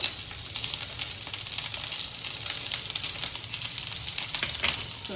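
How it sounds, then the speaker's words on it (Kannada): Okra (bendekai) frying in a pan, a dense, steady crackling sizzle with small spitting pops, close and constant with no talking. "ಬೆಂಡೆಕಾಯಿ ಕೂಡ ಫ್ರೈ ಆಗ್ತಿದೆ"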